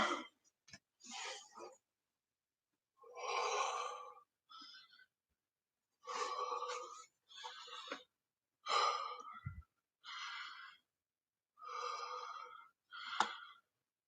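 Heavy, repeated breathing of a person catching their breath after a general fitness test, with loud gasping inhales and exhales in an uneven rhythm, close to the microphone and broken by short pauses.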